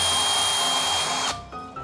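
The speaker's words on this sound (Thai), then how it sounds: "จากนั้นก็เอาดอกสว่านดอกยาวหน่อยแล้วเราก็เจาะให้มันทะลุลงไปอีกข้างหนึ่งเลยนะครับ" An electric drill with a long bit whines at a high steady pitch boring through a metal pole, then cuts off and spins down near the end.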